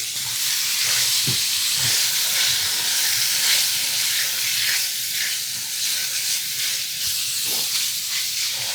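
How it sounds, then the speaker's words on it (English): Seasoned chicken browning in a hot frying pan, a loud, steady sizzle and hiss that carries on without a break, with faint low knocks underneath. "we're going to go ahead and cook this and give it a little bit of browning"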